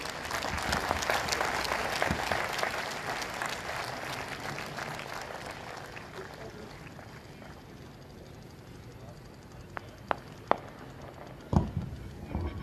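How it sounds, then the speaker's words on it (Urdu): Applause from an audience at an Urs gathering as guests are called onto the stage, dense and sustained at first and then thinning out, with a few sharp isolated claps and knocks near the end. "آپ تمام دوستوں کی بھرپور تالیاں ان کی"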